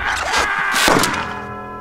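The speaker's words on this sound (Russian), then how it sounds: "Посмотри, шар лопнул." A single sharp burst, a balloon's loud pop with a broad crash, rings out over a murky background, then trails off.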